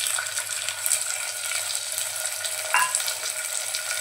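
Soaked black-eyed peas added to onions frying in a pan, a steady sizzle and hiss with a brief splashy clatter as they drop in, close and continuous.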